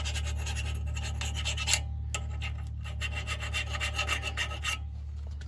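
A metal file rasps along the channels of a brake caliper bracket on a 1997 Dodge Ram 2500 van with a 5.2 L engine, steady scraping strokes close by under a constant low hum, with a short pause midway.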